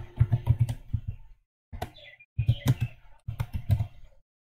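Computer keyboard keys clatter in three or four quick bursts as a search keyword is typed, close and fairly clear, with short pauses between runs.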